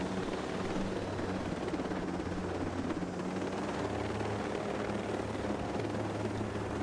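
Helicopter in the video game Ghost Recon Breakpoint, its steady rotor roar and low thrum continuous and close throughout, with no talk over it.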